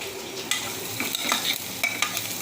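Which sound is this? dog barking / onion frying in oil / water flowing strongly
onion frying in oil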